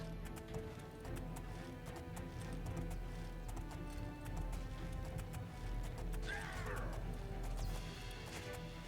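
Horse hooves gallop during riding in the Oblivion video game, a steady soft clatter of footfalls under a constant game backdrop, with a brief crash-like effect midway.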